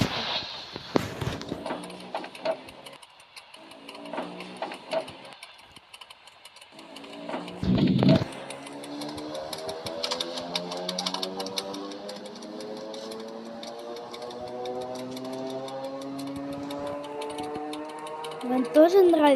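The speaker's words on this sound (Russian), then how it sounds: "Вам тоже нравится этот звук, как оно скрипит? Моторчик." Aboard a Russian electric commuter train, a traction motor gives off a squeaky, whining tone that climbs steadily in pitch as the train gathers speed. Clunks and knocks come first, then the layered whine persists up close.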